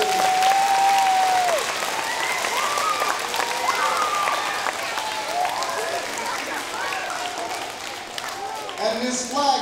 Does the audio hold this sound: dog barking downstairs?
no